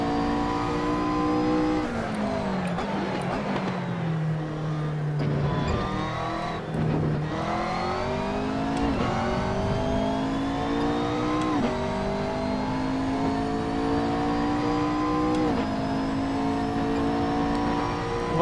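In Assetto Corsa, a Lamborghini Huracan's engine races, revving loud and steady through gear changes and repeated rises and falls in pitch, with occasional tire squeal and no talking.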